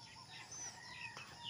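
Native chickens of an inbred Zamboanga Peninsula line cluck softly and faintly, with a few short calls and some light rustling.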